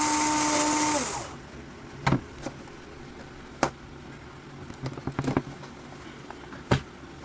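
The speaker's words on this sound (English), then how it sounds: "the grinder is finished grinding the beans" An electric coffee grinder set to a medium-fine grind whirs loudly through coffee beans for about a second, then cuts off, leaving scattered light clicks and taps.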